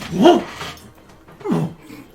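A mastiff dog gives two deep barks about a second apart, close and fairly loud, with quiet pauses between them.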